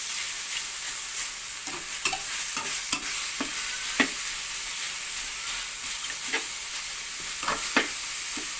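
Beans and pork being stir-fried in red curry paste, a steady sizzle and hiss of frying with repeated scraping clinks of a spatula against the pan, close and continuous with no talking.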